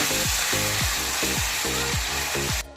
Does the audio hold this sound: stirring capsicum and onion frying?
yes